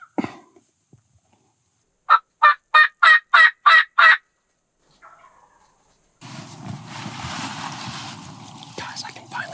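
A wild turkey in a Kansas field gives a burst of about six loud, rapid gobbles close by, followed after a pause by a low, rumbling drum under rustling and faint whispered talk.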